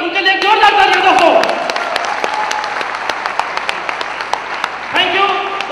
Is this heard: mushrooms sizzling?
no